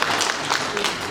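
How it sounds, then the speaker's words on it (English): Audience applause at a formal gathering in honour of a state governor, a dense, steady wash of clapping that holds at an even level throughout. "Please, a round of applause for him."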